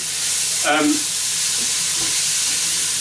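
Onion, garlic, ginger and curry sauce mixture sizzling in hot oil seasoned with panch phoron, a close, steady hiss with a short voice near the start.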